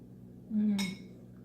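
A single short clink of a spoon against a soup bowl, faint and close, heard while someone eats homemade potato onion soup with sage.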